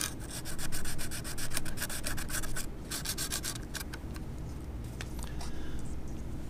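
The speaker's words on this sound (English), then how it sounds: "grit silicon carbide abrasive paper with the conditioner A and wet abrade" Silicon carbide abrasive paper rubbed wet over a printed circuit board with conditioner, prepping the surface for a miniature strain gauge: steady close scrubbing strokes with bursts of rapid back-and-forth rasping, continuous and moderately quiet.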